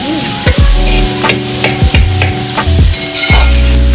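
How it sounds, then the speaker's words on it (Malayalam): Onion, green chilli and salt sautéed in a pan for a Kerala country chicken curry: steady close sizzle with several distinct knocks and scrapes of a spoon stirring against the pan at a regular pace. "സവോളയും പച്ചമുളകും കുറച്ച് ഉപ്പും കൂടി ചേർത്ത് നല്ലോണം ഒന്ന് വഴറ്റി നമുക്ക് എടുക്കാം"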